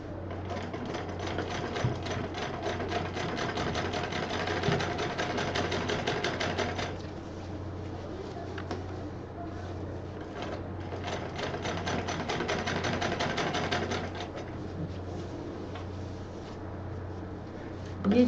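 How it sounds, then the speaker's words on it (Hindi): A sewing machine stitches a fabric stool cover in a circle, running in two long, steady, close mechanical bursts separated by a short pause, then idling down. "गोल में सिलाई कर देंगे।"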